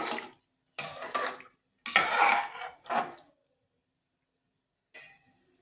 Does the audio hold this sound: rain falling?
no